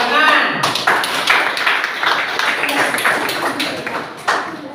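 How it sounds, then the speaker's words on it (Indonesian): A small classroom group of students claps during an English lesson, with close, uneven, loud hand claps in a loose burst, some scattered chatter and voices mixed in, and a final sharp clap near the end. "Bagus, tepuk tangan"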